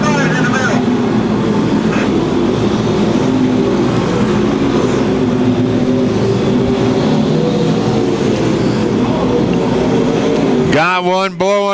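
Stock cars race around a speedway during a Nationals event, a loud continuous roar of engines filling the whole stretch, with a distinct rising engine whine near the end.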